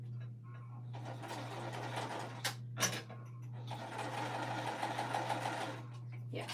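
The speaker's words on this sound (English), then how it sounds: "I'm super grateful that this machine, as long as I can fit it under the presser foot, it will sew" A sewing machine stitching through quilt batting, running in a fast, steady mechanical whir in two long bursts with a short pause and a few clunks between them, under a low constant hum.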